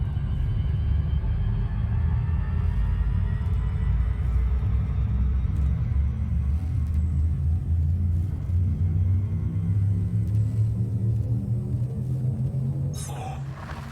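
Frame shift drive of a spaceship in a space video game charging up: a loud, steady low rumble with a slowly rising hum that holds throughout, then a brief bright burst near the end as it fades slightly.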